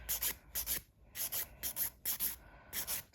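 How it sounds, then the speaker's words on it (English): A nail file lightly buffs the surface of a hard gel nail in rhythmic back-and-forth strokes, about nine close, soft scratchy rubs in short bursts with brief pauses between them and no speech. "I'm just going to lightly buff up the surface"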